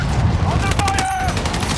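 Dense gunfire from Battlefield 6 rattles in a continuous fusillade of rapid automatic shots, loud and close, with shouted game voices over the shooting.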